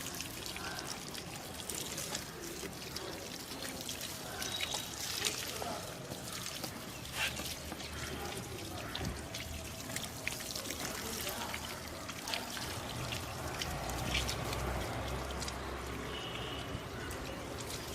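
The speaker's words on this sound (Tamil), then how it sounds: "ஸோ இப்போ தண்ணி ஊற்றிக்கலாம். தெளித்த மாதிரி தண்ணி ஊற்றினா போதும்." Water pouring and trickling steadily onto dry, clumpy soil in terrace-garden grow bags, with a continuous splashing wash throughout and some faint background noise.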